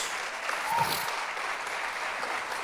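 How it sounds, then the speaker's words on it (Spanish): Audience applause during a church service, a steady wash of clapping from a congregation filling the whole moment, with no talk over it. "Denle un aplauso a Jesús."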